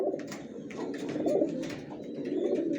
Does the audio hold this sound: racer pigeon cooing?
yes